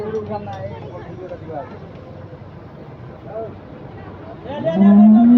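A large Friesian bull lows at a cattle market, a deep drawn-out moo near the end, while people talk over a busy background.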